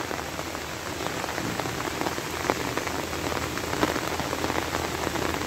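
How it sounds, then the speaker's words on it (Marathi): Heavy monsoon rain pours steadily over rice paddies and overflowing streams, a dense, continuous hiss of drops on surfaces with a few louder spatters, no voices. "पाऊस पण आता सध्या चालू आहे"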